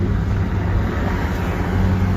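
Dense Manhattan street traffic with double-parked trucks rumbles as a continuous low roar of engines and road noise, heard from close by inside a vehicle.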